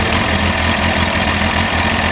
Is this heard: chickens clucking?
no